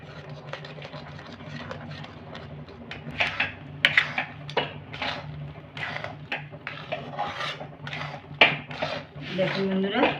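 Milk and rice are stirred in a pan with an irregular scraping and rubbing of the spoon against the metal, close by, with a voice talking over it at times.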